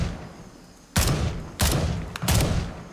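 Three separate loud gunshots, about half a second apart, from the Gray Zone Warfare shooter, each with a sharp crack and a booming tail over quiet ambient game sound.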